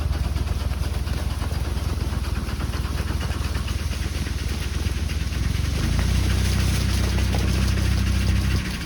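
An engine at an apricot sulfuring setup idles with a steady rattling drone, then throttle is given and a deeper, louder roar builds for the last few seconds, close by.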